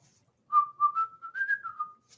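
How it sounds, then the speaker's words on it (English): A person whistles a short wavering melody of about a second and a half, close and fairly soft, with silence before and after and no talking. "Yeah, I can whistle."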